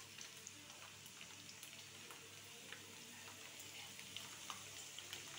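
Chicken frying in a pressure cooker pot gives a faint, continuous crackling sizzle with small scattered pops throughout.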